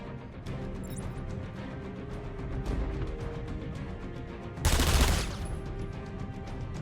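Rapid gunfire in Batman: Return to Arkham Asylum, a dense crackling volley running throughout, with a louder burst of shots partway through and no speech.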